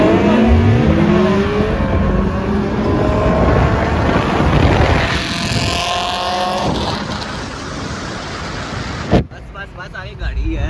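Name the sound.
K24-engined race car accelerating on track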